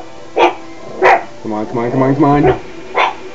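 Dogs bark in short, sharp bursts from an enemy in the game Final Fantasy V Advance, three distinct barks spaced across the clip with a player speaking over the middle.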